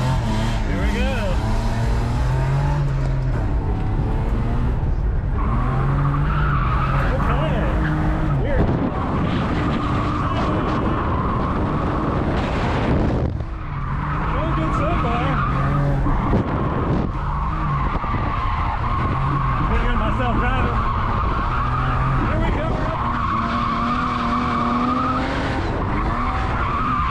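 Car drifting under handbrake, tires skidding and squealing in long loud bursts while the engine revs hard, with a brief lull midway and voices talking over the noise.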